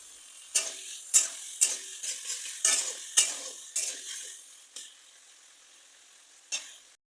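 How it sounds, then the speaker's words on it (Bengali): Prawns being lightly fried in oil in a pan, heard as a series of about nine bright scraping, clinking stirring strokes over a faint hiss, then quieting near the end with one final stroke. "এখন আমি চিংড়ি মাছগুলো হালকা ভেজে তুলে নেবো"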